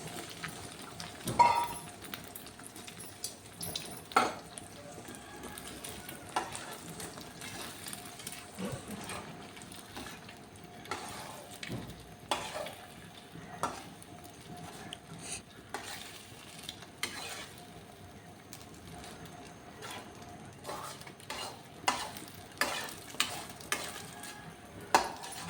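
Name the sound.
beaten eggs frying and being stirred in a pan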